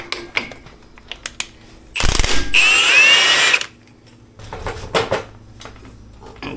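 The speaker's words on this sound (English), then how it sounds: "I'm using a 1/2 inch non-impact on my impact gun, and I'm using an impact socket" A 1/2 inch impact gun with an impact socket on a Bobcat engine gives a sharp burst of rattling, hammering whir of about a second and a half, framed by scattered clicks and clanks of handling.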